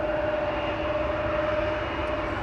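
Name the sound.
KLM aircraft at Amsterdam Schiphol Airport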